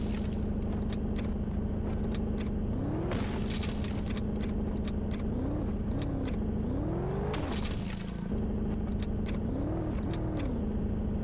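Vehicle engine in the video game Zed Zone, droning steadily with repeated revving swells as it drives and rams through zombies, with sharp impact thuds breaking in over the running motor.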